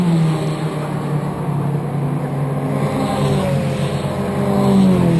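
Toyota MR2 Championship race cars passing at Donington Park, engines roaring loudly and close, rising toward the end as cars go by without talk.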